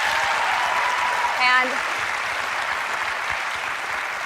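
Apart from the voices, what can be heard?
audience applauding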